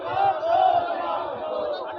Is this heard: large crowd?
yes